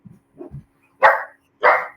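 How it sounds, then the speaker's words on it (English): A pug barks twice, loud and close, in sharp separate bursts, with faint grunting or whimpering sounds just before. "Oh, there goes my pug."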